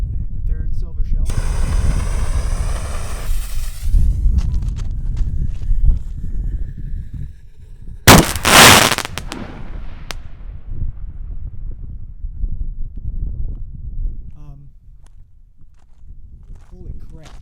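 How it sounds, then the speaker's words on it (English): A Snake Bite artillery shell firework bursts from its launch tube with a sharp, loud blast midway, set amid outdoor background noise and nearby voices talking before and after. "that just came out of the tube and exploded"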